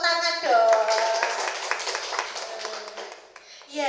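Participants in a teachers' training session give a round of hand clapping, quick sharp claps layered under a voice speaking throughout.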